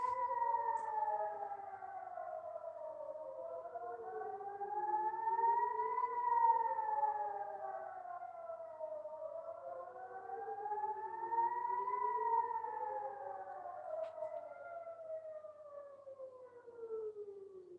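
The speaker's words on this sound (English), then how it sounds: "A missile was passing the area, so they blow the siren." Civil defense siren wailing over a neighborhood as a missile passes, its rising and falling tone sweeping in long repeated cycles, loud and steady throughout with no voices.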